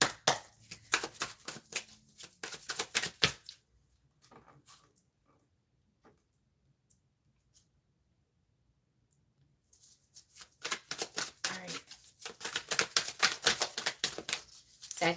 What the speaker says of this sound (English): I'm going to go ahead and start shuffling